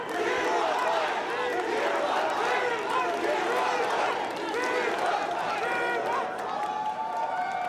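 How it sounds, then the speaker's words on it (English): An arena crowd chants "T1 fighting" in steady, rhythmic unison at a League of Legends esports quarterfinal between Bilibili Gaming and T1. The massed voices are loud and continuous, with cheering mixed in throughout. "So let's hear it from the crowd."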